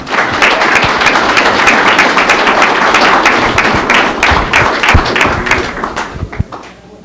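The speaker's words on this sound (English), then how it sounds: "let's give all of them a round of applause" At a Springfield, Tennessee city board meeting of mayor and aldermen, a room full of people applauds with dense, steady clapping that rings out for several seconds before thinning out and tapering off at the end.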